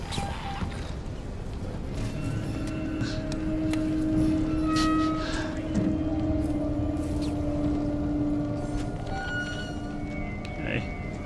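A train rolls past in Alien: Isolation with a steady mechanical rumble and a sustained horn-like tone in the middle, clanks and metallic squeals scattered across the passage.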